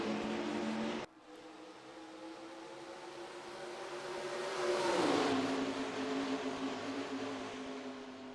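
Racing truck engines in the NR2003 NASCAR video game at Homestead Miami Speedway: a steady, droning engine roar that swells and pitches down as trucks pass close around the five-second mark, then settles back into a sustained hum.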